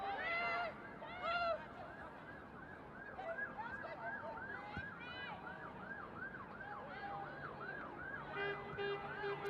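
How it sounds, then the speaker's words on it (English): Wailing sirens sweep up and down continuously over a steady background of crowd and traffic noise at a women's football match between Newcastle United and Crystal Palace, loud and persistent throughout, with a higher steady tone near the end. "Sirens blaring."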